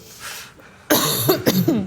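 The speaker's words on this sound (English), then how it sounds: "I don't mean to keep coughing." A person coughs several times in quick succession, harsh and close, after a brief quiet start.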